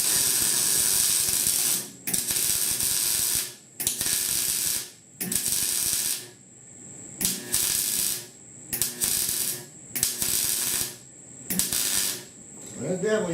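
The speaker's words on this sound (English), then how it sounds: "I want to get good hot welds on this piece because, you know, it's a seatbelt brace" Crackling buzz of a MIG welder laying beads on a fabricated seatbelt brace for a 1966 Ford F100, in about seven bursts of roughly a second each, loud and close, separated by short pauses.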